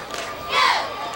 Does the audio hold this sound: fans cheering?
yes